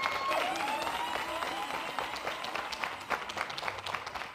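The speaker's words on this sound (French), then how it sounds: "Merci de vous applaudir également." Sustained applause from a studio audience on a TV entertainment show, a steady dense wash of clapping for dancers and choreographers that fades slightly toward the end.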